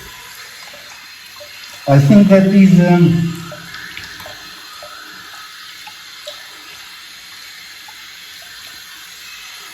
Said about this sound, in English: I want to just rinse the sink